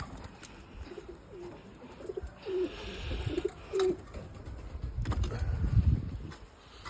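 Soft, low coos from breeding pigeons in a loft at night repeat a few times amid rustling and scattered background noise, fairly close, with no voices.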